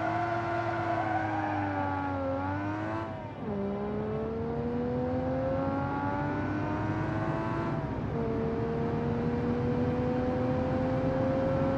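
Engine of a game car in BeamNG.drive, driven with traction control off, revs and climbs steadily through gear changes, with two brief dips as it shifts, loud and continuous with no talk.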